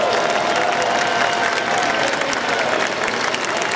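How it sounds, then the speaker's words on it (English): An arena audience applauds at a robotics championship awards ceremony, broad continuous clapping with some crowd noise, steady and full throughout with no break. "all of you kids deserve a round of applause for all the hard work you have"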